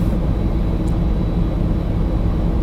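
Airbus A300-600 jet engines in X-Plane 12 hold a steady, loud low roar as they spool up on the runway for a flex takeoff, continuous and unbroken with no talk.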